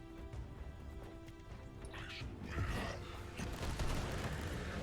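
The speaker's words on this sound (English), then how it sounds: "So, what's with all those chaos explosions?" Chaos explosions in the game Warhammer 40k: Inquisitor - Martyr, rumbling blasts and crackling debris that swell after a quieter opening and continue as a dense, moderately loud wash of battle noise.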